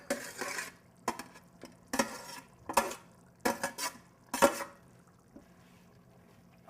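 Cajun dirty rice jambalaya, thickened with roux and sausage, stirred in a pot: a spoon scrapes and clanks against the pot in irregular bursts, with short quiet gaps between strokes.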